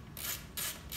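A ratchet works on the throttle body bolts of a Toyota Tundra, giving quick, close, quiet bursts of clicking in three short pulls against a soft background hum.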